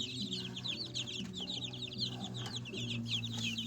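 A flock of Light Brahma hens and roosters clucks and chirps continuously at close range, a dense overlapping chatter that never pauses.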